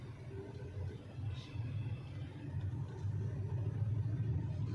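A 2024 Hyundai Creta drives along a road, its low engine and tyre rumble steady from inside the cabin and slowly building, with no talk.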